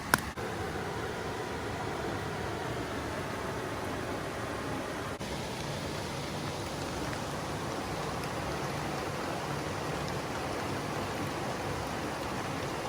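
Steady, dense rain hiss fills the whole stretch, a constant wash of falling drops with no voices.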